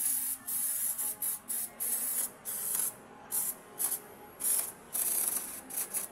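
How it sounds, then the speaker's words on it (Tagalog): A rag rubs and wipes oil off Toyota Fortuner/Hilux differential parts in a series of short, brisk, raspy strokes, close and fairly loud, with brief pauses between them and no talking. "Punasan ang mga langis-langis para malinis."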